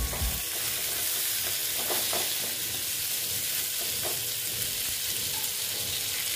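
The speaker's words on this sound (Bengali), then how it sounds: "আস্তে আস্তে করে ভেজে নিচ্ছি।" Pointed gourd (potol) frying slowly in a pan over low heat gives a steady, even sizzle and hiss that runs throughout, with a few soft stirring scrapes near the start.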